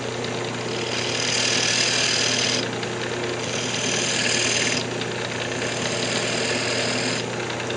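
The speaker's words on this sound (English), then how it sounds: "use my fingernail gouge to put a couple little small grooves in it" Wood lathe spinning a purpleheart pendant blank with a steady motor hum as a fingernail gouge cuts small grooves, the cutting rising into louder raspy bursts that come and go.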